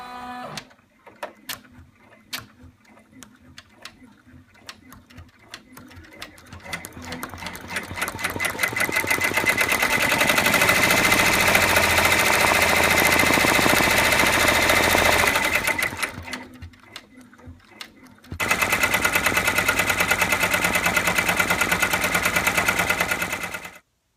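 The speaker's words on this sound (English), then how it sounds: "I'm going to go ahead and run that stitch" An embroidery machine stitches a top stitch on an in-the-hoop fabric pocket, starting with scattered clicks, then settling into a loud, steady rapid whirring rattle that pauses briefly before resuming.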